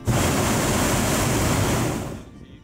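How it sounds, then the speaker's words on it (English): A hot air balloon burner fires over the Mara River plains at dawn, a loud, close, steady roaring blast lasting about two seconds before cutting off abruptly into near silence. "A silent morning, broken only by the roaring of burner blasts."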